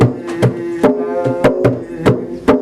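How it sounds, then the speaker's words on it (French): Nyabinghi bass drums pound out a slow, steady rhythm of deep, booming strikes, heard close and alone with no voices. "Le Naya Bengi, c'est une musique qui est basée sur des tambours comme ça, des tambours de basse."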